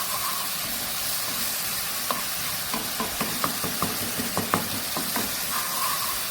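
Prawns with a pinch of turmeric sizzling in a frying pan while a utensil stirs them, giving a run of sharp scraping clicks over a steady close hiss.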